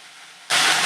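Curry leaves and green chillies dropped into hot oil with fried lentils for potato sagu: a faint background hiss suddenly bursts into a loud, close, steady sizzle halfway through.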